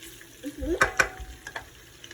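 Bacon crisping in a pan, a soft close crackle with a couple of sharper clinks of stirring.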